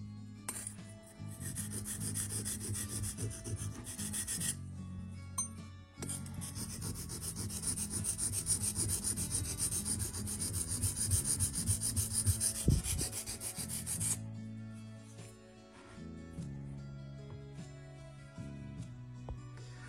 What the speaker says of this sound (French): Cette pierre à affûter est un indispensable pour garder vos outils bien tranchants.